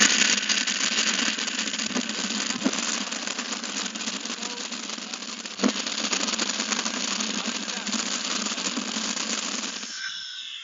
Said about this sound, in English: I've set up a leaf blower on my grill here